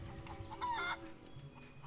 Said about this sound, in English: Feral chicken.